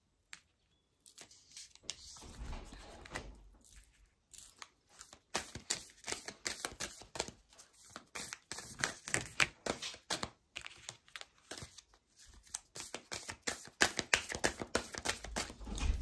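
Tarot cards being shuffled by hand: rapid, quiet riffling and flicking in irregular bursts, fairly close and soft, with a few pauses between rounds.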